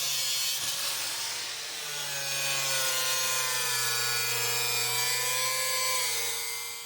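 A saw cutting leftover wooden bench pieces into short stakes, one long steady cut whose pitch slowly rises and falls, loud and close with no talking.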